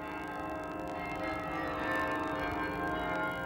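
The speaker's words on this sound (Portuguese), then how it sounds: "Os repicos do seu famoso carrilhão enchem os ares." Carillon bells of a baroque church in Portugal ring out, a soft, sustained wash of overlapping tones heard at a distance and fairly quiet.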